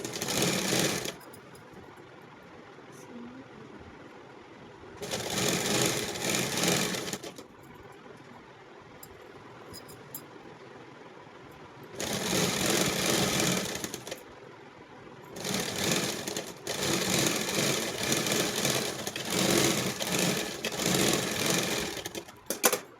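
A sewing machine stitches a plastic off-shoulder top in four loud mechanical bursts of steady whirring, separated by quieter pauses.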